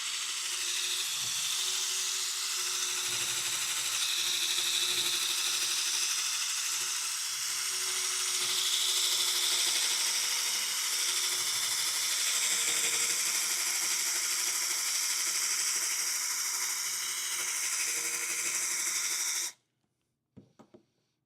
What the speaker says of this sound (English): I'm trying to keep this bearing still with my hand and drill with the other one